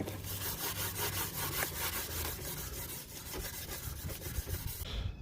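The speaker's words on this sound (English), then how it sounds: "this is the one I just finished sanding with that Scotch-Brite pad" Rapid back-and-forth abrasive scrubbing of a Scotch-Brite pad against a metal valve cover, steady and close, continuing without pause for several seconds.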